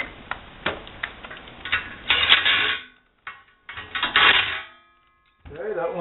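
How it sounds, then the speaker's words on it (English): An impact wrench drives bolts while assembling a large rocket stove for big cooking, giving two loud rattling bursts amid scattered metallic clicks and handling sounds, with a voice briefly at the end. "I'm going to use an impact wrench because"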